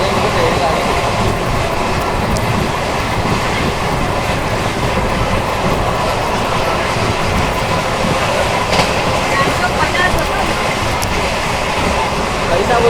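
The 12702 Hyderabad–CSMT Mumbai Hussain Sagar superfast express runs at about 130 km/h with a loud, continuous roar of wheels and rushing air, rhythmic clickety-clack over rail joints and occasional faint wheel squeal, heard close by.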